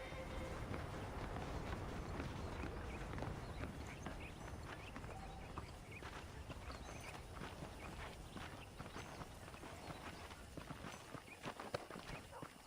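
Horse hooves clip-clop in a steady walking rhythm in the Red Dead Redemption video game, heard at a low, even level over a soft ambient bed with no clear talk.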